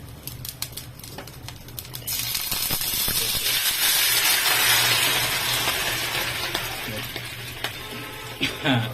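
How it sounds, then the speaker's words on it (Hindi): Loud hissing sizzle as water hits hot tempering oil for dhokla, building to a steady crackling roar for several seconds, then easing off. "थोड़ा सा उसमें पानी जाएगा, छनछना जाएगा एकदम पूरा"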